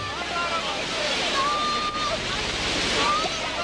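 Rushing floodwater around a trapped car, a broad steady roar of surging water and wind, loud and continuous, with a faint high cry rising above it and a narrator talking over it.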